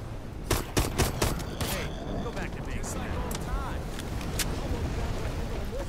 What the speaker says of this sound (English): Fire four bullets.